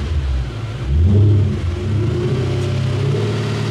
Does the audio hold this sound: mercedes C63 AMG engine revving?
yes